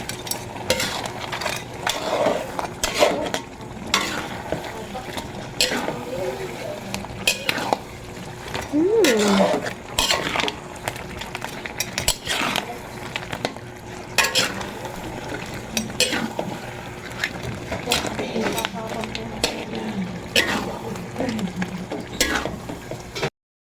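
Sinantol being stirred and fried in a pan, with repeated scraping and clattering of a utensil against the pan over a constant low sizzle, and occasional talk mixed in.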